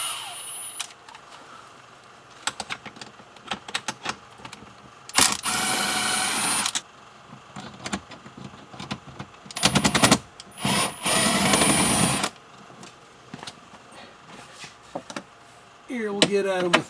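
Tools work on the fasteners under the glove box of an Audi Q5 with a non-working blower motor: scattered clicks and taps, then two sustained buzzing bursts, close up, with a voice talking at times.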